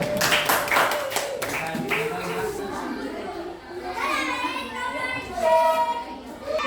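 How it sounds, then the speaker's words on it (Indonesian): In a classroom, a group of children claps in quick, sharp bursts early on, then children's chatter and voices take over, moderately loud and close. "Oke, tepuk tangan untuk kelompok Indonesia."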